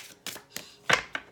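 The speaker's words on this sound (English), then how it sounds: "We're doing a little bit more shuffling here" Tarot cards being shuffled by hand during a reading: five short, crisp bursts of card noise, close and quiet, spaced irregularly with brief silences between them.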